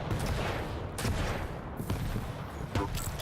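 Rocket launcher fire in a Quake one-on-one duel, rapid explosive bursts and impacts layered over continuous loud game noise, with sharp blasts recurring every second or so.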